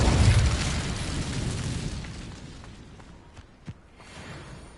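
An Incendio fire spell from the Hogwarts Legacy video game bursts out as a loud, roaring whoosh of flame. It fades steadily over a few seconds, and one small sharp pop comes near the end.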